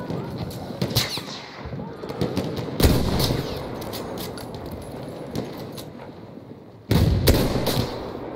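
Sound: gunfire in a video game

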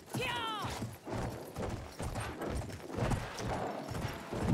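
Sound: horse hooves clip-clopping in Battlefield 1, a video game

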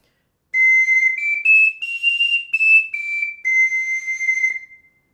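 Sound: soprano ocarina high notes played with correct breath

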